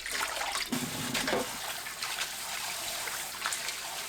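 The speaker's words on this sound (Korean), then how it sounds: "2시간 후 물에 헹굽니다." Soaked dried taro stems are rinsed in a basin of water, a close, steady sloshing and trickling with a few sharper splashes as the stems are moved.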